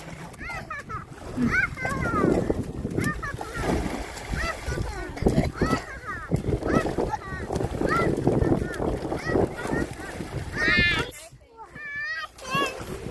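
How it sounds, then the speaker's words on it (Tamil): Children swim and splash in the Palar river near Vellore, with water slaps and splatters mixed with loud, overlapping voices of kids and adults talking and shouting outdoors, plus gusts of wind buffeting the microphone. "எல்லாம் நீச்சல் அடிக்குதுங்க."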